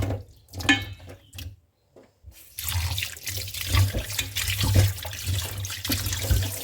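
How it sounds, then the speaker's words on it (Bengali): Tap water runs into a sink while freshly cut country chicken is washed, splashing and gurgling unevenly with a brief pause near the start, close and moderately loud. "এখন এটা ভালো করে পানি দিয়ে ধুয়ে পরিষ্কার করে নেব"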